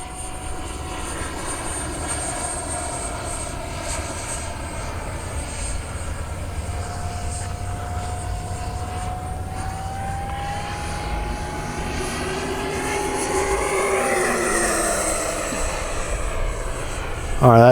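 A remote-controlled F-35 model jet from XFLY flies overhead with a steady, whining engine drone that slowly rises in pitch and swells louder near the end, as the sound sweeps past.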